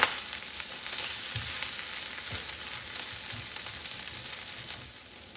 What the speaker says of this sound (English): It's been sauteing about 5 minutes.